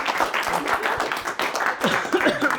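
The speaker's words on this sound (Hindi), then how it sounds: "चलिए एक बार जोरदार तालियां यार, दोनों मेरे दोस्तों को" Applause from a stage-show audience for two performers at a mind reader's show, dense steady clapping throughout with some voices and short bursts of higher chatter near the end.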